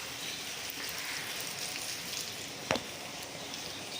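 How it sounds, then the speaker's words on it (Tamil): A sudden early-morning rain makes a steady, soft hiss of falling drops, with one brief sharp tap partway through. "இன்னைக்கு காலைல பார்த்தா திடீர்னு மழை"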